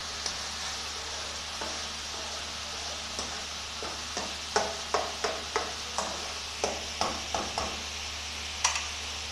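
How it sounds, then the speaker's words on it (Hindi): Tomatoes sizzle in a pan of fried onions for chicken tikka biryani while a spoon stirs, with soft scraping clicks that build into a steady run of taps over constant frying hiss. "हमारे प्याज हो गए हैं और हम इसमें अभी टमाटर डालने लगे"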